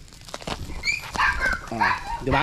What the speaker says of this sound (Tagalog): pasensya na kayo sa ingay ng mga aso ko